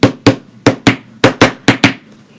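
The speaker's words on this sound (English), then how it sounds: "I always say keep a little hammer" A small hammer taps at a red and white ruffled deco mesh wreath, giving eight sharp, loud, evenly spaced knocks close up with no talking.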